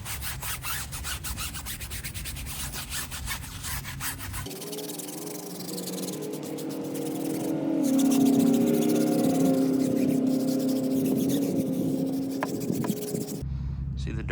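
A stiff-bristled brush scrubs a dirty car wheel and tire, making a close, continuous scratchy rubbing with shifting strokes, and a voice is talking over it.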